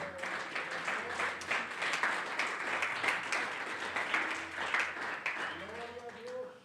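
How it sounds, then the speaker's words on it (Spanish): Church congregation clapping in praise during a Pentecostal service, steady dense applause through the clip with scattered cheers and voices rising near the end. "Dale una ofrenda de palmas al Señor."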